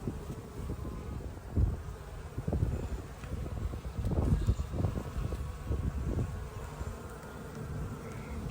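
Dense bees buzz steadily from a full, heavy beehive being taken out during a removal, a close swarming drone with wind rumble and soft rustling, and no one speaking.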